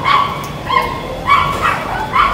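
Several dogs bark and yip in short bursts, four or five close, loud yelps spaced about half a second apart, some whiny and high.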